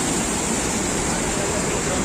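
A flooded river rushes in a dense, steady roar of broadband water noise, close and loud, with no voices over it.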